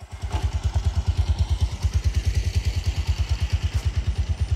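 A motorcycle engine idles close by in a village, a steady rapid low thumping putter with even pulses throughout.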